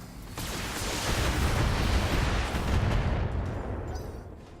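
Heavy mech weapons fire in the video game Battletech, a dense roaring barrage of explosive blasts and rumbling impacts that sustains loudly for several seconds before fading slightly.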